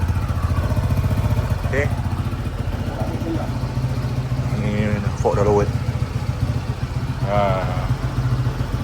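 A Honda ADV 160 motorcycle with a steel Bubu exhaust idles close by with a deep, steady rumbling exhaust throb, while someone speaks a few words in Malay over it.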